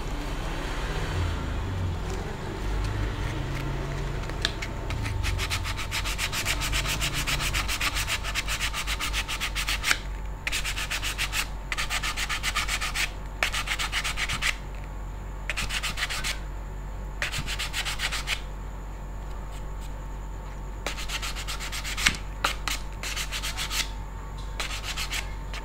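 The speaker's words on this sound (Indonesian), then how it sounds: "Oke, selanjutnya ganti pakai amplas" A repaired wooden machete sheath is sanded by hand with 150-grit sandpaper, giving a steady, close rubbing hiss of quick back-and-forth strokes. A constant low hum and faint road traffic sit underneath, and no one talks.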